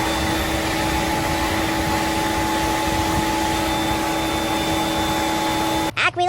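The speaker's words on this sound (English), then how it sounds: "Miren cómo gira el motor sin ningún tipo de problema." A car motor starting up for the first time runs smoothly as a steady, loud whirring hum with constant tones, holding evenly for several seconds before cutting off abruptly near the end.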